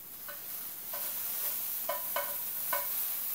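Vegetables sauté in a pan for an egg white omelette, giving a soft steady sizzle with a few light scraping stirs as they are moved around, quiet and close, with no talk.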